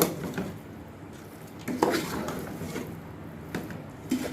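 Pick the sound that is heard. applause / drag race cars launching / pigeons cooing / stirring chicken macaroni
stirring chicken macaroni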